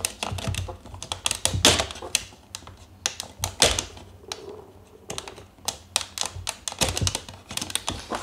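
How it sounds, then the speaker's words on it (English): Knife trimming on a Bruder Jeep RC conversion chassis, a run of sharp, close cutting and scraping strokes in irregular bursts with short pauses between, no talking. "Just giving it a quick trim with a knife."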